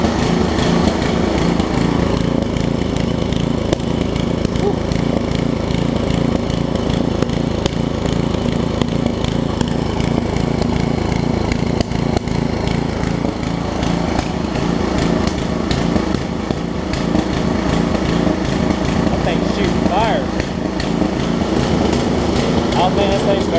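A Craftsman tiller with a 5hp Briggs & Stratton engine runs continuously at a steady, loud idle-like chug with an even mechanical buzz throughout.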